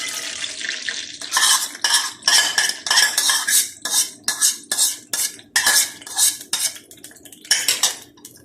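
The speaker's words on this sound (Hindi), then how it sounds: "अंडा में थोड़ा सा और मिक्स कर लूँ और मैं डालती हूँ घी में।" Egg mixture cooking in ghee in a pan and stirred with a metal spoon, a quick run of close scraping and clinking strokes against the pan with soft sizzling between, loud and steady throughout.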